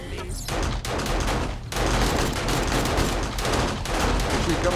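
Loud, continuous automatic gunfire aimed at zombies in the game 7 Days To Die, dense overlapping bursts with only brief dips as weapons pause.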